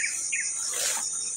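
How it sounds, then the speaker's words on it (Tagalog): Birds chirp beside a stream in short bright calls over a steady high insect-like drone, fairly close and lively, with no talk. "Maingay yung mga ibon dito sa may sapa."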